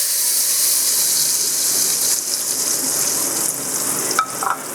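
A hot tempering is stirred into dal, giving a loud, dense sizzle and hiss close up, with a few faint clinks of a spoon near the end.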